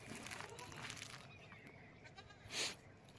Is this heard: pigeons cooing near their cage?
no